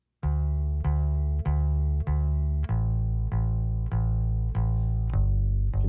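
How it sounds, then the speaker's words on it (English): Isolated bass guitar played alone, about nine plucked notes in a steady even rhythm, each sustaining into the next, close and loud with a faint electrical noise underneath. "And the bass sounds like this by itself."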